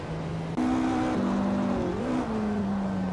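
A 1961 Ferrari 156 F1 race car driving, its engine holding a steady tonal drone that shifts pitch through gear changes, close and loud without talk.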